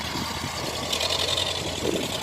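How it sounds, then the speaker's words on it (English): Steady low rumble of an old Brașov-built tractor engine idling nearby in Caraorman, continuous and unchanging throughout. "This is a tractor built at Brașov."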